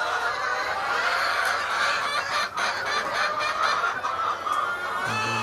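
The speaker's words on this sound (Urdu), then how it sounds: "یہ ساری مرغیاں جو دوبارہ آ رہی ہیں انڈا دینے کے لیے آ رہی ہیں ادھر" Golden Misri desi hens on a Punjab poultry farm cluck in a steady, dense chorus, many birds close by and loud with no talk over them.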